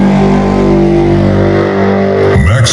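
A Bollywood dance track streams over Bluetooth through a 100-watt-plus-100-watt Class D amplifier, loud and sustained with steady tonal layers, then a sharp shift near the end.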